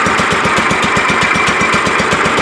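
John Deere 212 lawn tractor engine idling smoothly after a carburetor cleaning, a loud, close, steady rapid thumping pulse throughout with no talk.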